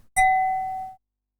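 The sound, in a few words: tone of a wine glass being recorded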